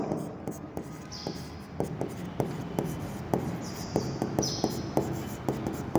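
A marker or chalk writes on a board during an accounting lesson, with quick tapping strokes and short squeaky drags in an irregular rhythm, close and moderately loud.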